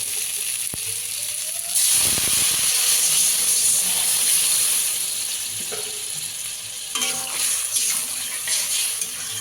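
Water is poured into a pan of frying potato and kohlrabi with spices, setting off a sudden louder burst of hissing sizzle over the steady frying, which then settles back and flares again near the end.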